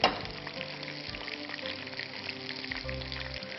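Chicken pieces for orange chicken deep-frying in oil give a steady, even sizzle with a dense bubbling crackle throughout. The sound is moderately quiet and close, with no talking.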